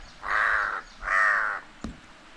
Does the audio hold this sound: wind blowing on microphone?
no